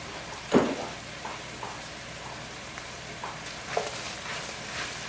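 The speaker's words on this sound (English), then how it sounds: "As soon as that garlic hits the pan, my God, it's so good." Garlic sizzling in a hot frying pan for lasagna: a steady, close crackling hiss with a brief louder burst near the start, and no voices.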